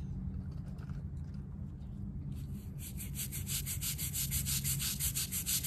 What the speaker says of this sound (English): So we'll just do one more quick scrub here.